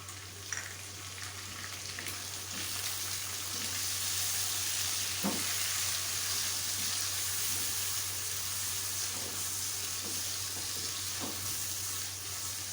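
Tomatoes added to browned onions in a pan for an aloo palak dish, a soft continuous sizzle with occasional faint clinks of utensils and no speech.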